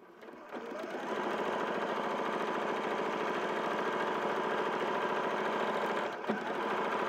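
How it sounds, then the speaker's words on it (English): A sewing machine runs continuously, stitching a bag lining all the way around with a 5/8 seam allowance, producing a steady rapid mechanical whirr that starts after a brief quiet moment and carries on with a small bump near the end. "Is just machining all the way around."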